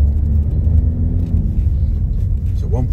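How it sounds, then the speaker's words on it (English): A white 2017 Seat Ateca 1.6 TDI Ecomotive SE diesel driving on the road, a steady loud low engine and road rumble heard from inside the cabin, continuous throughout. "This is a virtual test drive in our 2017 Seat Ateca."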